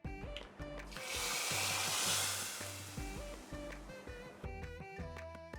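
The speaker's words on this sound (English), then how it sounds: "Now let's pour this hot fragrant tempering straight into the rasam." Hot tempering with curry leaves and dry red chilies hits amla rasam in a loud hissing sizzle that swells for a couple of seconds, then fades under soft background music.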